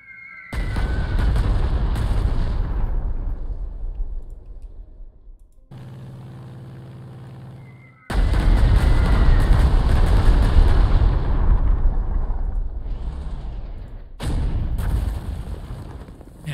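Strategic bomber bombardment in Panzer Corps 2: a loud run of booming detonations, a tonal engine-like hum in the middle, then further heavy blasts rolling on, with no talk.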